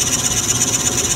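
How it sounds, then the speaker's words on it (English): Drill bit boring into a wooden screwdriver handle spinning on a lathe, a steady grinding, rasping whir heard up close with no break for the whole moment and no voices. "We're going to bore to a depth of 3 3/4, which I've marked with a piece of tape on the drill bit."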